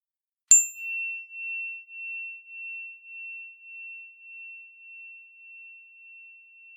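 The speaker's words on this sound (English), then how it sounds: "Having heard the gong" A meditation gong is struck once, giving a clean, bright ring that hangs in silence and fades slowly with a gentle pulsing over several seconds.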